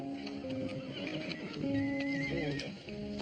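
A horse neighs and whinnies amid a busy, noisy outdoor scene with shuffling hooves, the cry rising in the middle and fading near the end.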